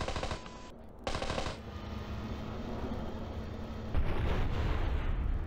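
Rapid gunfire from a shootout in the video game GTA San Andreas, with sustained bursts of automatic shots and loud cracks crowding the scene, steady and intense throughout.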